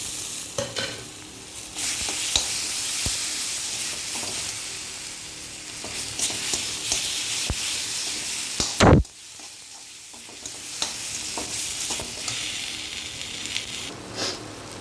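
Mustard paste and spices frying and sizzling in a pan for a small tingora fish curry, Assamese style, with steady stirring scrapes throughout and one sharp clatter midway; no talk.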